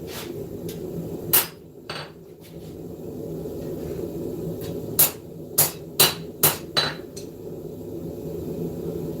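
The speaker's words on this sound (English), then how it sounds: "My rehandle ball peen hammer" Ball peen hammer with a replaced handle striking while a knife is forged: one sharp metallic hit, then a quick run of four or five ringing blows at a steady rhythm, close and bright over a low shop hum.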